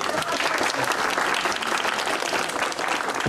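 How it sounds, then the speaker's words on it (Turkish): Big burst of applause fills a room at an engagement ceremony, dense and steady clapping from a crowd that carries on loudly throughout without pause. "Evet, büyük bir alkış."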